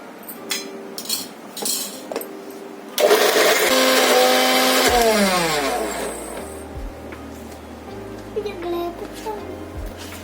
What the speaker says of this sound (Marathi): आता आपण हे मिक्सरच्या भांड्यामध्ये काढून थंड करून मग वाटून घेऊ